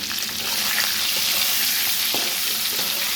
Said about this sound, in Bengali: প্রথমে ডিমগুলো একটু ভেজে নিচ্ছি